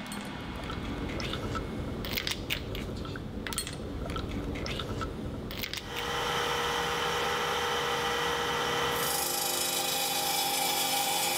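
A diamond-grit tool abrading glass in an optics workshop gives a loud, continuous grinding whir that shifts character partway through and again near the end, with no voices.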